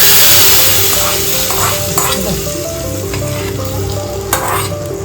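Cashews and almonds roasting in a pan for homemade rice kheer, giving off a loud, continuous sizzle and occasional stirring clinks under background music.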